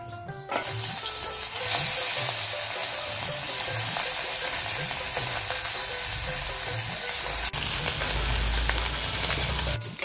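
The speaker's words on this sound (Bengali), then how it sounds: "এক এক করে সম্পূর্ণ মাছ ভেজে নেব।" Puti fish fry in hot oil, a continuous bright sizzle with faint rhythmic clicking and scraping from the pan, heard close and fairly loud.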